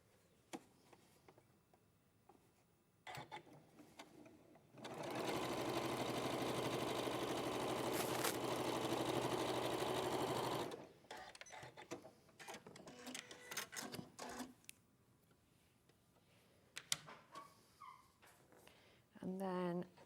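A sewing machine stitches fabric in one steady, loud run of about six seconds, with sparse handling sounds before it and a voice talking after it.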